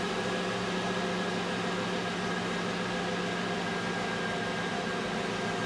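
A steady mechanical whir and hum, like a vacuum pump drawing down the EVAP system on a Chevrolet Suburban fuel tank, holds constant and fairly loud from start to finish with no pauses.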